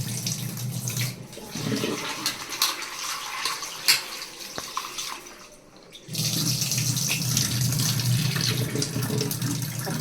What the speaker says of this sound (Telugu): ఒక 2 టైమ్స్ నేను వాష్ చేస్తాను